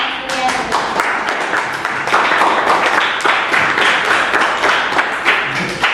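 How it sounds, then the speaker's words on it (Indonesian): Students in a classroom give a group a round of applause, a lively burst of many hands clapping at close range, with voices mixed in. "Kita beri tepuk tangan untuk kelompok"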